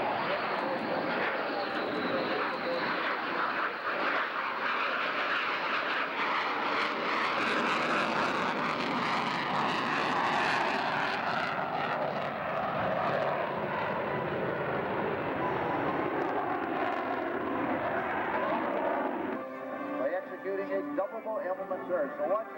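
Twin-engine military jet roars through an airshow flypast at Frederick Municipal Airport in Maryland, 1997, a loud sustained rush of engine thrust that swells and slowly fades, with an announcer speaking over it.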